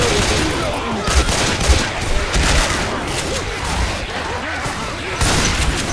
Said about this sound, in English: I just shot Coach in the face too.